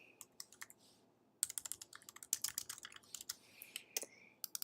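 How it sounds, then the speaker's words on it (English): Fingers type on a computer keyboard, first a few scattered clicks, then a brisk run of close, crisp keystrokes with short pauses, heard alone. "I'm going to go ahead and type my response."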